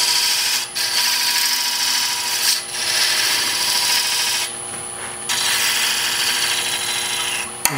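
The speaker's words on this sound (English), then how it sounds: "I need to establish a recess right here with my point tool" Wood lathe with a point tool cutting a recess while turning a castle box: a loud, continuous scraping hiss over the spinning lathe, nearly unbroken, with a brief dip in the middle.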